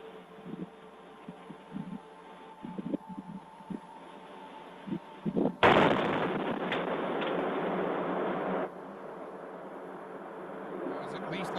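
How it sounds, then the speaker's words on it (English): A sudden deep boom from an explosion about a mile away, caught on a doorbell camera, followed by a broad rumbling roar that lingers for several seconds before easing, with faint talk beforehand. "Here's the explosion."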